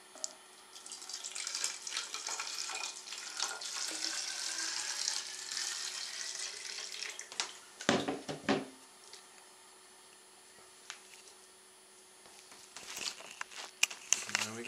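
Water pours into a bathtub for a gravity-powered toy boat setup, a steady hissing rush for several seconds, then splashes and handling knocks as the flow stops, with quiet background.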